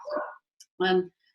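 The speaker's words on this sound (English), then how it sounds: "that's my dog barking at the the door" A dog barks at the door indoors, a couple of short yips and one fuller bark in quick succession, fairly close and moderately loud.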